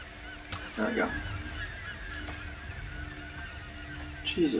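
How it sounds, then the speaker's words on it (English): Loud honking bird squawks in the Tomb Raider video game, a few short harsh calls in bursts over a quiet background, with a player talking in between. "birds are loud"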